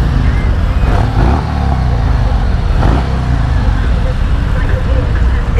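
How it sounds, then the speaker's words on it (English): A 2024 Harley-Davidson Road Glide motorcycle engine rumbles loudly close by, with a couple of brief throttle blips pushing the revs up over a steady low idle. "Trying to get a rev bomb going"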